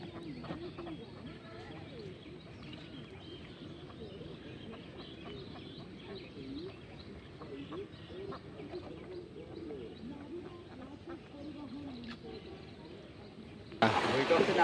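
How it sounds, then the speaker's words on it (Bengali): Ducks quack faintly at dusk as a boat drives them home along rural Bangladeshi water, with people talking nearby over the birds throughout. "এই কাকা দেখেন নৌকা দিয়ে ধাওয়া দিয়ে বাড়ির দিকে নিয়ে যাচ্ছে হাঁসগুলো"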